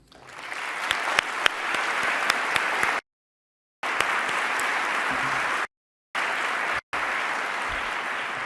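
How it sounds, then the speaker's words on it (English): A crowd at a commemorative ceremony for Flight PS752 claps in a loud, steady round, with a few sharp individual claps near the start and the sound cut into separate stretches by brief silent gaps. "I think it's again worth a round of applause."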